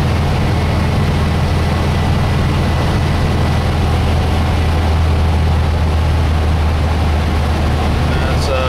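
A vehicle engine runs steadily while driving, a loud, constant low rumble with road and wind noise filling the whole stretch.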